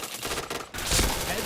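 Short, dense bursts of video game gunfire crackle loudly, with a brief dip before a heavier blast of shots.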